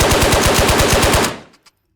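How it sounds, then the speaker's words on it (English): An SKS rifle bump-fires in the game Ghosts of Tabor, letting off a fast, loud burst of about a dozen evenly spaced shots over just over a second, followed by a brief fading tail. "So this is me bump firing."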